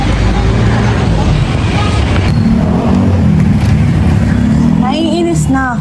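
Steady road traffic rumbles in a loud, continuous wash of car engines, with people talking over it.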